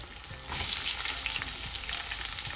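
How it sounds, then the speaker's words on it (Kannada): Sliced onion hits hot tempering oil in a pan at home and breaks into a loud, continuous sizzle that keeps crackling steadily with no voices over it. "ಒಗ್ಗರಣೆಗೆ ಪಾಡೋದು ಮತ್ತೆ ಕಟ್ ಮಾಡ್ತೀನಿ ಆನಿಯನ್ ಪಾಡೋನು"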